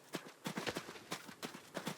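Horse hooves clip-clop in the Adios video game, a steady walking rhythm of crisp, close hoofbeats on a hard surface with no voices.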